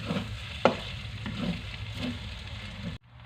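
Rice sizzles in a hot wok while a utensil scrapes and stirs it, with a sharp clack of metal early on; the sound cuts off near the end.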